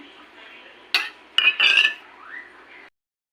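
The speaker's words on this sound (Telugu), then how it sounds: "మరిగే పులుసులో ఇలా చేప ముక్కలను జాగ్రత్తగా వేసుకోవాలి" Pieces of fish drop into a pot of boiling fish curry, making a few sharp splashy clinks and plops over a faint background of simmering.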